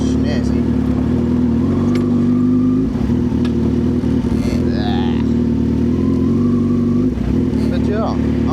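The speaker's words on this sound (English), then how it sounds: "I must say these Suzukis are one of the better sounding bikes out there." A Suzuki GSX-R1000 motorcycle engine idles loudly and steadily nearby, with a few light blips of revving and clatter, while people talk over it.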